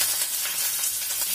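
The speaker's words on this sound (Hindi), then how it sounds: "मूंगफली हमारी भून गई है, निकाल ले, मीठी नीम थोड़ा सा डाल रही हूँ" Curry leaves sizzle loudly in hot oil beside freshly fried peanuts, a dense, steady crackling hiss filling the whole moment without speech.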